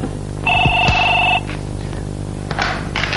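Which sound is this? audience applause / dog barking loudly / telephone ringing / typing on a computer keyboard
telephone ringing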